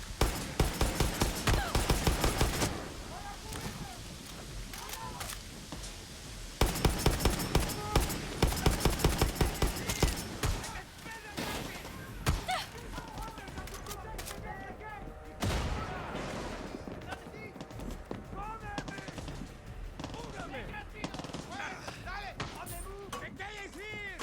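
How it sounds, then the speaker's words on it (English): Mortar fire and explosions from the game Far Cry 6, heavy booming blasts and gunfire bursts rolling through most of the stretch, with sharper loud salvos near the start and middle and a steady battle din underneath. "Are they like shooting mortars from their ship onto their ship?"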